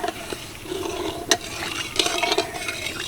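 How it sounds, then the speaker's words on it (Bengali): A spatula stirs sugar syrup flavoured with a cracked cardamom pod, making soft bubbling with a few sharp scrapes and taps against the pan, close and fairly quiet. "এবার একটু খন্তি দিয়ে নেড়ে চেড়ে একটা ঘন মিষ্টি শিরা বানিয়ে নেবো"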